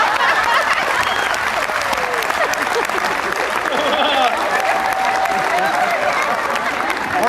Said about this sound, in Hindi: और जो लोग ताली बजा रहे हैं